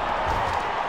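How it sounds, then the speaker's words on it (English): Crowd noise from a Bath versus Exeter Chiefs rugby video game, a dense steady roar of cheering with no distinct claps or voices, filling the whole moment at a constant high level. "Crowd enjoyed that tackle."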